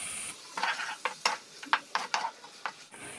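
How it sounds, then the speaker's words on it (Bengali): Chopped onion, ginger, garlic and green chilli frying in hot oil in a pan, with a light sizzle beneath a series of sharp spatula scrapes and taps at an irregular pace, close and fairly quiet. "তেল গরম হয়ে গেছে, দিয়ে দেব কুচনো খানিকটা পেঁয়াজ।"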